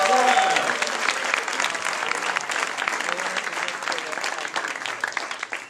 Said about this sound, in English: We heated the crowd for you, so big applause